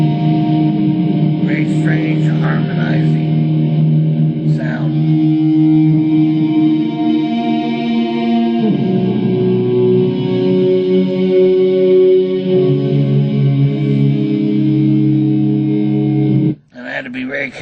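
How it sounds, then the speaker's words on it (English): Layered, strangely harmonizing guitar tones with heavy reverb and echo hold long sustained chords that shift pitch several times before cutting off abruptly near the end. "Very strange harmonizing sound."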